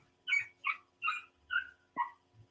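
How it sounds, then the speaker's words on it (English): A small dog yips outside in a quick series of five high sharp barks, evenly spaced and moderately near, with no talk over them. "Can you hear the dog out there?"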